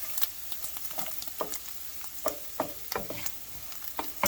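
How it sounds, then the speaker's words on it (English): Sausage sizzles steadily in a hot pan while flour is stirred into it, with a spoon scraping in an irregular rhythm close up. "So we're just sprinkling it over the sausage and we're going to stir it."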